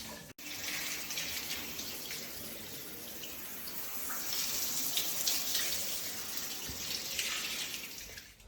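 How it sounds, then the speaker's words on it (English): Steady shower water running and splashing over a treated glass shower panel, a continuous soft hiss heard alone, fairly quiet. "And just notice as the water hits, nothing's sticking to the glass, and that water will just"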